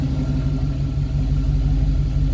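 A 1966 Pontiac Catalina wagon engine idles steadily during idle adjustment, a low, even rumble with a constant throb, close up and uninterrupted, with no talking.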